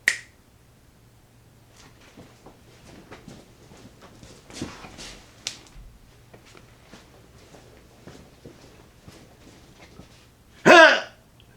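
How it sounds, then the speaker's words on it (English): A magician snaps his fingers during a vintage spring snake toy trick, a crisp sharp snap at the start and another loud one near the end, with quiet rustling and faint handling sounds in between. "Snap my fingers."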